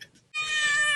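A cat gives one loud, drawn-out meow that starts suddenly and holds steady to the end, close and clear. Faint low sounds come before it.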